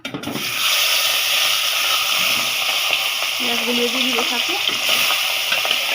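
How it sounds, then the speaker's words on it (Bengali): Fish head dropped into hot oil sizzles and spatters loudly and continuously, a dense frying hiss filling the kitchen, with a brief faint voice in the background. "তেলটা গরম হয়ে গেছে আমি মাথাটা দিয়ে দিব"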